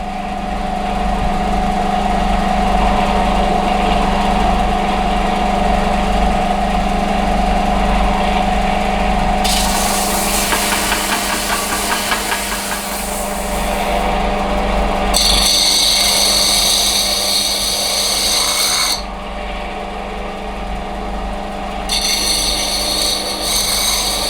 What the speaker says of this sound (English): So a bit of machining on mill, just thought I'd show it.